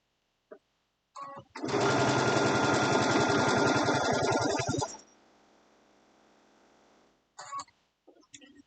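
A sewing machine stitches fabric for an Easter basket, whirring in a steady loud burst of about three seconds and then winding down to a soft hum. Brief handling clicks come before and after.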